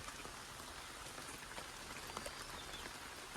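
Steady monsoon rain of the Bhadarva month falls on leaves and ground, a dense, even hiss with scattered drips, close and unbroken, with no voices.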